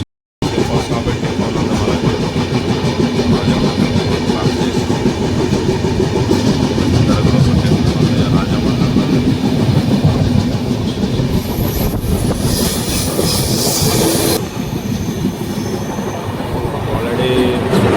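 A passenger train from Visakhapatnam to Secunderabad runs fast at night, its loud steady rumble and clatter heard from on board, with a brief high wheel squeal near the end.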